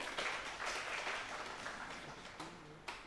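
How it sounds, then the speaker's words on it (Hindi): Fairly quiet applause from an audience at a spiritual retreat centre quiz in Delhi-NCR, clapping for both competing teams in a short, even patter that fades toward the end. "दोनों टीम्स के लिए ताली बजाएंगे।"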